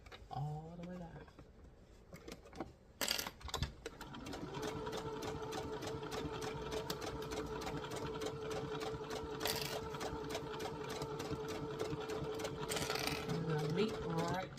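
After some opening handling noise and a voice, a sewing machine runs continuously for about ten seconds down a long seam in a vintage bedsheet dress, with a steady mechanical whir and ticking.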